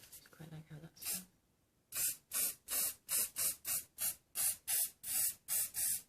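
Hairspray is sprayed onto vintage roller-set curls in a quick series of about a dozen short, close hissing bursts. Each burst is separated by a brief pause, and a few soft sounds come before the spraying.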